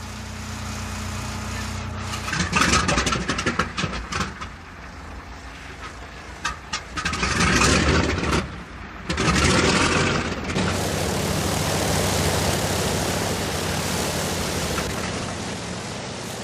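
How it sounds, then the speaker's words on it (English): Piston engines of the B-29 bomber "Kee Bird", running smoothly after a week of repairs to fix oil leaks, roar loud and broadband in uneven surges, dipping briefly before a sustained steady drone. "After a week of work, the engines are running smoothly and the oil leaks have been eliminated."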